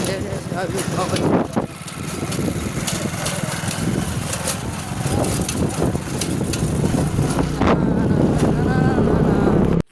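Motorbike ridden outdoors in rural Gujarat on the way to graze cows, engine droning steadily and close throughout, with a person talking over it.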